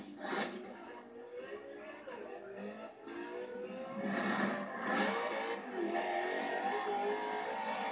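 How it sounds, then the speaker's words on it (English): Porsche 918 hypercar accelerating in the racing game Forza Horizon 3, its engine roaring and revving steadily for several seconds, fairly loud with layered mechanical tones. "that 918 is just taking off for me"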